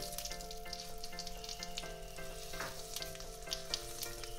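Black cumin seeds, four dried red chillies and turmeric sizzle steadily in hot oil, a dense continuous crackle with faint stirring clicks, close and alone.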